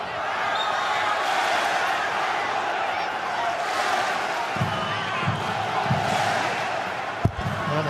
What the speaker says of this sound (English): The entire stadium involved in the clapping, led by the RBB.